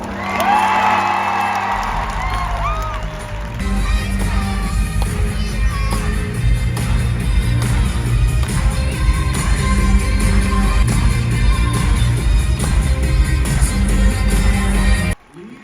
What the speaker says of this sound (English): Please politely applaud for Piper and Paul.